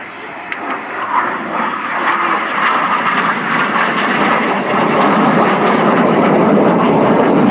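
RAF Red Arrows jets fly the Synchro Cross at an air display, a loud rushing jet roar rising quickly and holding strong, with a few faint sharp sounds early on.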